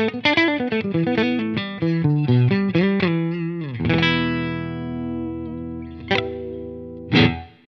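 A Schecter Nick Johnston electric guitar on its middle pickup position plays a quick run of picked notes, then lets a chord ring out with two more strummed hits. The tone is processed through effects, and no one speaks.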